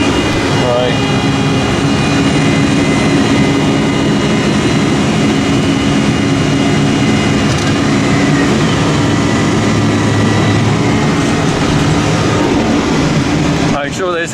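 A loud, constant tractor engine drone while drilling wheat on a farm, with a low rumble throughout, close by and unchanging, with no clear talk over it.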